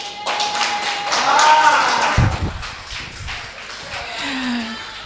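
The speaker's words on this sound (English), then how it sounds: "Another round of applause for Ekwu Yankey" A round of applause at a pageant event: irregular claps and taps mixed with background voices and a brief tonal sound, fairly close and moderately loud.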